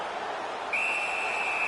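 A referee's whistle in an ice hockey game sounds once, a single sustained shrill blast cutting in partway through over the low murmur of an arena crowd.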